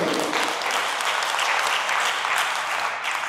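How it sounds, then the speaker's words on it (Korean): Audience at a Korean Buddhist professors' gathering applauding to welcome a Buddhist nun from Malaysia, a loud, continuous wash of clapping that holds steady throughout. "먼저 박수로 환영해 주시고요."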